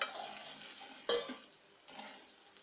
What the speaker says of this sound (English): Then add this fried cauliflower